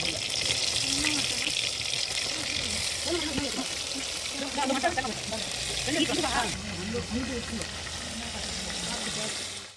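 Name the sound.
marinated chicken frying in oil in a pan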